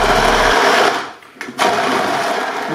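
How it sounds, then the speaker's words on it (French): An immersion blender whirs loudly through fish soup in a saucepan, a steady high motor drone that briefly cuts out and then resumes at full strength. "Et je redonne un petit coup de mixeur."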